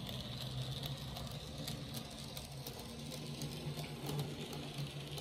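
A small Bachmann N scale Thomas model train engine runs steadily, giving off a continuous faint motor whir and hum with a light rattling texture, unbroken and evenly paced throughout.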